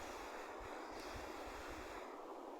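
Room-temperature water is poured into a pan while palak paneer is being made, producing a steady, faint, even rush of liquid throughout.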